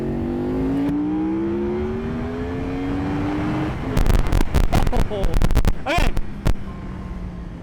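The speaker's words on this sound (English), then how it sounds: "you put it into like low gear, you open the throttle." A 2009 Yamaha R1 motorcycle engine revs in low gear with the throttle opened, its steady note rising in pitch over several seconds. Sharp, rough bursts follow, and a voice speaks briefly.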